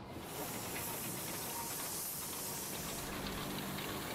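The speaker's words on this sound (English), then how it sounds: "The train finally arrives after climbing hours uphill." A Darjeeling Himalayan Railway train arrives in the Himalayan foothills after a long uphill climb, heard as a steady, fairly faint hiss of steam with a soft rumble underneath and no talk.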